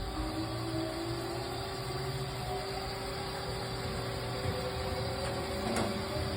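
A 2006 Haas SL-30 CNC lathe jogs its axes, giving a steady machine hum with a constant whine and some sheet-metal rattle, continuous and close throughout, with no speech.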